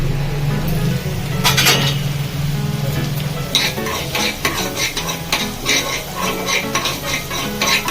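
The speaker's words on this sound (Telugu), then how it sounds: "కొన్ని కొబ్బరిలు ఎండు కొబ్బరిలు వేయించుకోవాలి" Dry coconut pieces and coriander seeds roast in a pan, with a low steady hum at first, then repeated close scraping stirs and light metallic clinks of a spoon against the pan.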